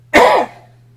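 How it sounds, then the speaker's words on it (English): One short, harsh cough or throat-clearing sounds up close, then fades quickly into near silence. "Sorry for the cough."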